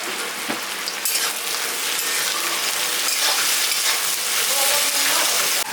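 Sliced onions, salted and softening, fry in a pan with a steady, loud crackling sizzle and occasional stirring scrapes, continuous and close with no voices.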